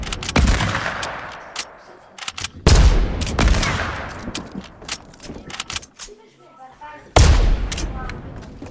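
Sniper gunfire in the battle royale game Fortnite, three loud, sharp cracks spaced a few seconds apart, each trailing into a decaying echo, with lighter clicks and smaller shots between them.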